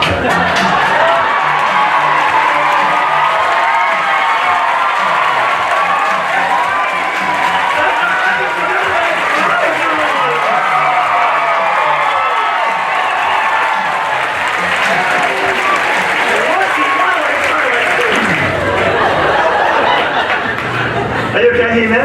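An audience on stage applauds with loud sustained clapping, mixed with cheers, whoops and scattered laughter, while voices talk close by throughout.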